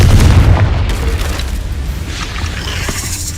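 A Confringo fire spell in Hogwarts Legacy bursts with a deep, loud boom at the start, then a rumbling tail that fades slowly, heard alone.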